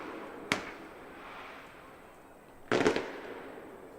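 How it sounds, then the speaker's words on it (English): Fireworks burst twice during a baseball game, one sharp crack followed a couple of seconds later by a louder crackling boom, distant-sounding over the ballpark's low ambient murmur. "As fireworks continue,"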